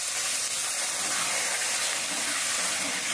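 Water is poured into a hot pan of katla fish masala curry with almond paste, producing a loud, continuous steamy hiss and sputter, close and steady throughout.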